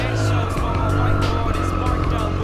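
A 2020 Triumph Street Triple RS motorcycle engine revs hard up close, a loud throaty roar that rises and falls in quick bursts.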